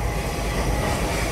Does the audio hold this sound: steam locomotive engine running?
yes